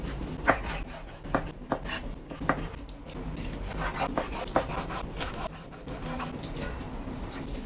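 Knife slicing chicken breast thinly on a board, a quiet run of soft scraping cuts and light taps in an uneven rhythm, close up with low background noise and no talk.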